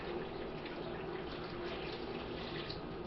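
Distilled water pours steadily from a tap into a cooking pot, a continuous broadband splashing and gushing rush that holds even and close throughout with no talk.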